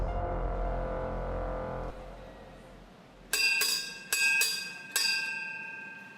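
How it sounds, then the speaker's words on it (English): A prison bell in a Singapore women's prison rings to signal a head count: five sharp, ringing metallic strikes in an uneven run, each fading quickly, after a low droning hum dies away. "The bell is to alert you to sit."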